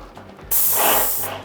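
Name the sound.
Wagner Control 150M airless paint sprayer spraying test patterns on cardboard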